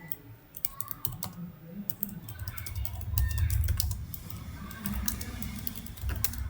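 A question is typed on a computer keyboard in rapid, uneven bursts of close, crisp key clicks over a low background hum, with no speech.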